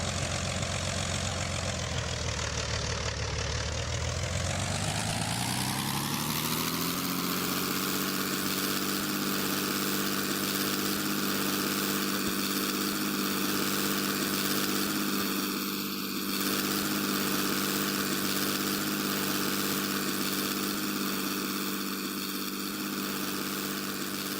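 An F4U Corsair's propeller engine in Roblox spins up over the first few seconds, its pitch sweeping low before settling into a steady, loud droning hum that holds unbroken to the end.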